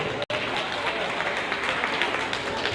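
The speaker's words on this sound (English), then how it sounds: "Please, who is not clapping for her?" At an event in Lagos, an audience claps in dense, continuous applause throughout, broken only by a momentary cut near the start.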